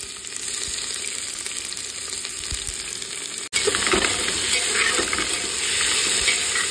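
Chopped onion hits hot mustard oil with cumin seeds and sizzles loudly and close: a steady hiss at first, then a sudden fuller, louder frying roar with crackles after a brief break.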